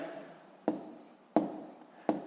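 Hand-written maths calculations for a sixth-grade rational-number exercise: three distinct pen or marker strokes, each starting with a sharp tap and fading into a brief scratch, spaced roughly evenly apart, close and clear with no talk.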